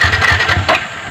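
A new motorcycle's engine running close by, a loud, steady, throbbing mid-pitched hum with a fast pulsing rhythm and no talking over it.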